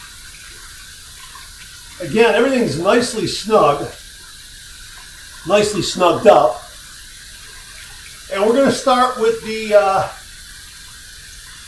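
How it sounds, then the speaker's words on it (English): Hot water runs from a tap over a Taisoto Duo safety razor as a steady, close hiss, with someone speaking in three short bursts over it. "We're going to heat this up under some hot water and get right to this shave."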